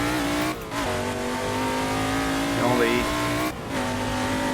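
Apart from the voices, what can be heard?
McLaren Can-Am big-block race car engine, video game Assetto Corsa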